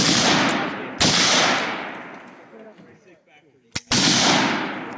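Gunshots at an outdoor gun range: two loud, sharp reports, each followed by a long fading echo, with a quiet gap and faint voices between them.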